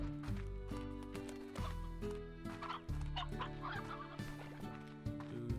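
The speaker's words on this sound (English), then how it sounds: "Well, we have lots of elder hens here." Elder hens in the video game Slime Rancher cluck and squawk in a busy overlapping flock, steady and close, set against a bed of cheerful looping game music with no speech.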